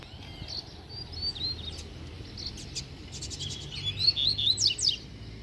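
Double-collared seedeaters call in the wild, quick high chirps and twittering song phrases that grow denser and louder toward the end over a faint outdoor background, with no one talking.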